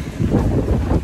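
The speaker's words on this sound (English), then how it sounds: "it has gotten a little bit breezy" Breezy wind buffeting the microphone on a hiking trail up Ensign Peak in Salt Lake City, Utah, a steady low rumble that swells and gusts throughout with no talking.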